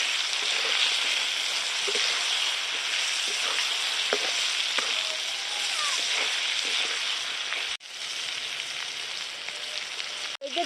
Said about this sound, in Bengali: হলুদ লবণ দিয়ে ভালো করে হালকা করে ভেজে নিচ্ছি